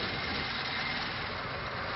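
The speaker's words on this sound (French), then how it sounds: "Vous pouvez remarquer le ralenti de la voiture." An original early Panhard car engine idles steadily nearby, a continuous broadband rumble with an even, slightly uneven throb and no talk over it.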